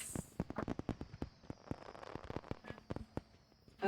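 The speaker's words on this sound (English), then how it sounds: "Hear fireworks going off in the background." Fireworks crackle and pop in quick, irregular bursts, a dense string of sharp reports heard at moderate distance with no voices.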